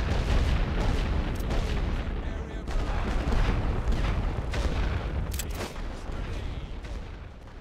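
Sustained artillery barrage in a World War I western front strategy game, a dense continuous roar of booms and gunfire with sharp reports, loud throughout, with faint voices underneath.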